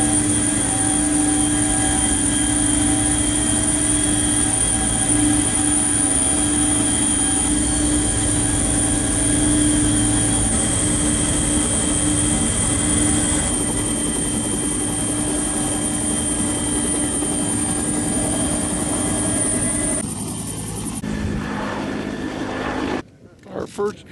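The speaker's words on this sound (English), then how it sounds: "The helicopter is taking off for the first hike drop of the morning." Helicopter lifting off for a morning heli-hiking drop in the Bugaboo mountains, a loud, close, steady turbine whine and rotor drone that holds then shifts and cuts off abruptly near the end.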